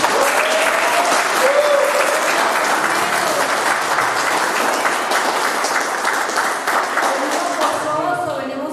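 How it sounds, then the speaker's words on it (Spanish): A church congregation gives a loud, sustained round of applause during a Sunday service, thick continuous clapping that holds for the whole stretch, with voices faintly under it. "vamos a darle un fuerte aplauso al Señor, pero uno duro que salga"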